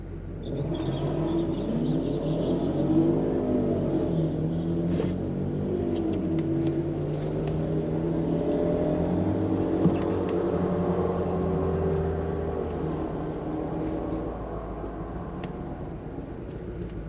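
Engine rumble at Santa Pod drag strip while a Jaguar F-Type waits in line for the race ahead to start, a steady low idle and drone with light revving, continuous and fairly close.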